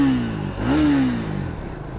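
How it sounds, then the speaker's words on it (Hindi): A Triumph Speed 400 motorcycle's exhaust note rises and falls as the engine is revved once, then drops back to idle, heard up close on a cold mountain stop. "एग्जॉस्ट नोट आता है क्या हमारी गाड़ी का।"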